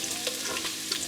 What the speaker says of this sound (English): I'm gonna add the garlic first